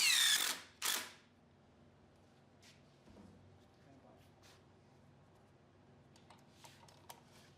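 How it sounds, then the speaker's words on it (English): A power drill pre-drills and drives screws into workbench braces, two loud short whirring bursts at the start followed by quieter tool handling and light clatter in a workshop. "she can pre-drill and insert a screw"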